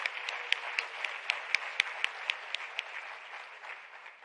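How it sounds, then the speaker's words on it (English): A small crowd claps steadily, sharp hand claps standing out in a quick rhythm before fading away. "A round of applause for Ms. Honadi."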